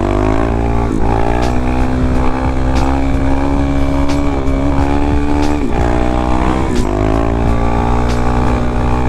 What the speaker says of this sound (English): These are kind of like my first wheelies since I haven't been on the DRZ